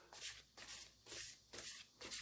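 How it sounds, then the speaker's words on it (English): Stone Visconti tarot cards are overhand shuffled in five quick, evenly spaced bursts of papery riffling, close and soft, with no talking. "let me get one overhand shuffle, let me do 2 more"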